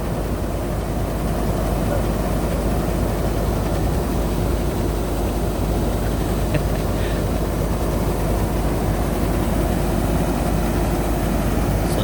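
A 2019 combine harvester from a local workshop runs at full throttle in a rice field where the crop lies flattened in water, giving a steady, loud droning engine roar that holds throughout with no talking.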